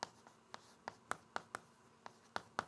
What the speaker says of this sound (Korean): 좀 크게 쓰고 아래쪽에 조금 내려서 써볼게요